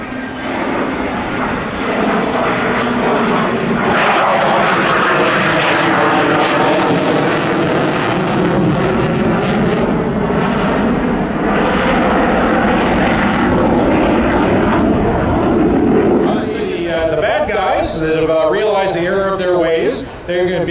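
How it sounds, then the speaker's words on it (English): An F-16 fighter jet flies past at low speed with its landing gear down during a simulated interception demonstration at Abbotsford, a loud sustained engine roar heard under continuous commentary over a public address. "But the F-16 is going to follow them along very slowly with his landing gear down"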